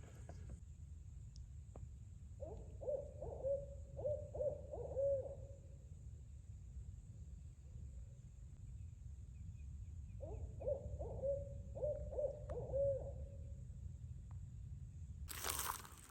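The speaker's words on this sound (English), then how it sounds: "an owl right there by me started hooting" An owl hoots in woodland during a spring turkey-hunting outing, two rhythmic series of about five low hoots each, fairly close, separated by a quiet pause over faint steady background hum.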